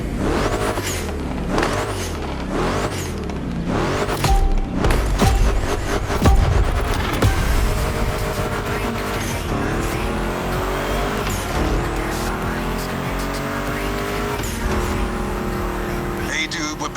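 A Ford Mustang GT muscle car roars in The Crew Motorfest racing game, its engine revving up and down through gear changes with tire squeals, loud and close, with a voice talking over it at times.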